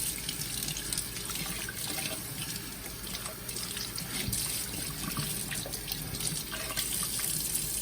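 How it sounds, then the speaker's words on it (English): Running tap water pours steadily and fairly loudly over CritterZone air purifier parts held under the faucet, with splashing and spattering throughout and no talking. "So you can rinse this fully under water"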